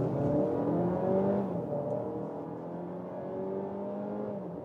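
A Volkswagen Tiguan SUV with the 1.5 TSI petrol engine pulls away, its engine note rising steadily through the revs and then easing off as it shifts, heard from inside the cabin at moderate loudness.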